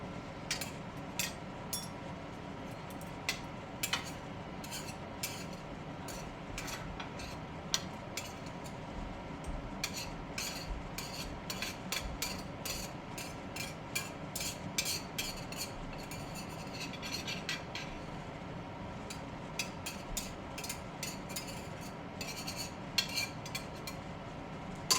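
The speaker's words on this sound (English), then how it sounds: "I'll have to get the chopsticks and scrape off." Chopsticks scraping and clinking against a pan while freeing stuck omurice, a long run of close, irregular metallic taps and scrapes over a faint hum.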